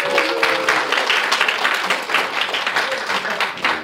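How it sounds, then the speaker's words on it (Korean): Church congregation applauds a bass guitarist in the worship band, loud, dense clapping from many hands filling the room steadily throughout. "박수 한번."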